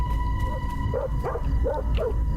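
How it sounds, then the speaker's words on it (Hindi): A dog lets out a short run of four or five quick yips and barks at moderate distance over a low background hum. "किसे भौंक रहा है?"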